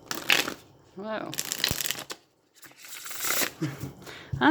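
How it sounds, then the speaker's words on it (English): A fairly new tarot deck is shuffled in quick, papery riffling bursts with a few pauses, close up, while a person talks in between. "Let me shuffle and pull some tarot cards"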